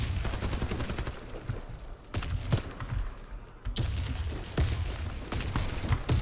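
Bursts of automatic gunfire crack through a Warface match, rapid volleys of shots near and loud with short gaps between them.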